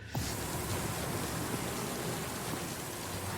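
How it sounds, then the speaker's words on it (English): Heavy rain in a Silent Hill 2 Remake trailer, falling as a steady dense hiss, loud and continuous, with no voices. "The rain and the lightning, everything looks so good."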